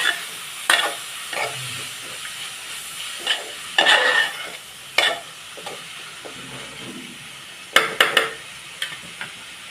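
Kozhuppa thoran with coconut being stirred in a pan: intermittent spoon scrapes and clatters over a steady low sizzle, close and moderately loud, with no voices.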